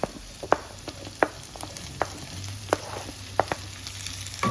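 Chopped onion frying in a pan for chilli chicken, a steady sizzle broken by sharp clacks and scrapes of stirring at irregular intervals, close and clear with no talking.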